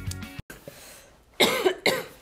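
Several sharp coughs in two bursts, close to the mic, with a brief quieter stretch between them.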